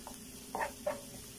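Onion and garlic fry in oil in a pan, giving a low, steady sizzle with a few brief louder bursts, likely from stirring, close by and with no talking.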